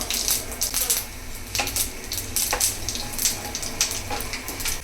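Mustard seeds, urad dal and cumin sizzling in hot oil, a close crackling fry dotted with sharp pops and spattering bursts throughout, with no voices.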